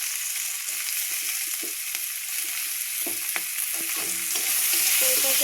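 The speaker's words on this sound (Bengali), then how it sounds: "সুন্দর মতো করে পেঁয়াজটা আর কাঁচা লঙ্কাটা দিয়ে ভেজে নেবো আগে।" Onions and green chillies fry in a pan with a steady, close sizzle, while intermittent scraping and stirring clatters sound through it and the frying swells louder near the end.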